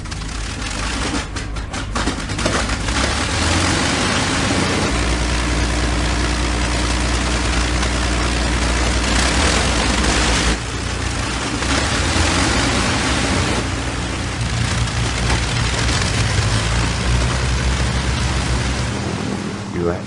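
Four Merlin engines on a Flying Fortress bomber drone together in a thick, continuous roar that stays close and loud throughout, with faint voices heard beneath it.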